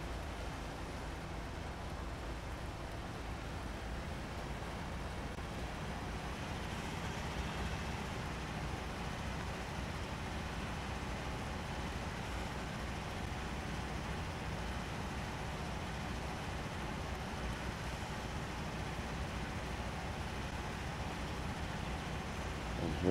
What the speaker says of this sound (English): The sound of an idling engine and the rain pouring.